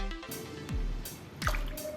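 Two wet plops of water splash into a bowl, close and fairly soft, a short pause between them.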